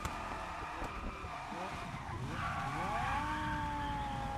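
A Lamborghini Huracan in the racing game Test Drive Unlimited Solar Crown roars with a loud, sustained engine note that rises and falls through gear changes, with tire squeal and skidding layered on top, no talking.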